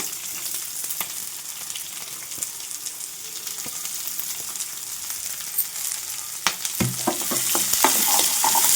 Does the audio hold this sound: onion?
yes